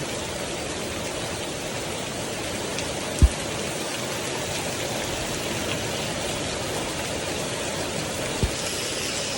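Steady rain pours down in a dense, even hiss, with a couple of brief knocks partway through; no one speaks.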